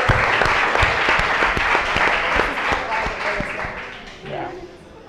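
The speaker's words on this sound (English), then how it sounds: "But give him a good round of applause and encourage him." A live cooking competition audience applauds, a dense crowd patter that holds steady then fades toward the end as voices and room sound take over.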